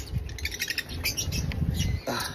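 Birds chirp and tweet continuously in a backyard aviary, a dense mix of close, overlapping calls over low background rumble, with a brief louder burst near the end.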